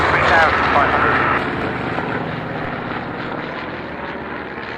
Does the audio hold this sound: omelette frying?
no